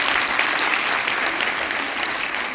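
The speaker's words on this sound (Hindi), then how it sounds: "तो दोनों के लिए जोरदार तालियां।" Dense, loud applause fills a hall of students and staff at a college orientation programme. It holds steady from start to finish, with no clear talk over it.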